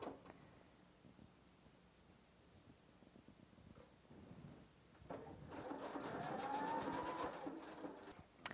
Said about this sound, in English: touch the scissor button and it will finish that last stitch for you